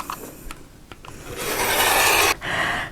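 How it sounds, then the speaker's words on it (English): A rotary cutter or blade trimming the edges of a quilted table runner square against a ruler, heard as short scraping strokes and then a longer steady rasping cut, loud and close, with no talk. "So I've trimmed it all up."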